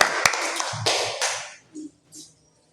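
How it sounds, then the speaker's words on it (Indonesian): A classroom group claps together in a short burst of applause that quickly fades, followed by a couple of faint taps and murmurs. "tepuk tangan kelompok 1"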